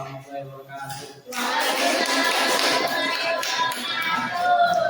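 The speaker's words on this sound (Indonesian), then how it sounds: "Tepuk tangan dulu untuk dia." Students in a classroom break into clapping after a short quiet stretch, a dense burst of hands that stays loud and steady to the end.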